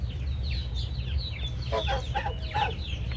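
Chickens in a container garden cluck and chatter in short, rising and falling calls that grow busier toward the end, heard at moderate distance over a steady low background rumble.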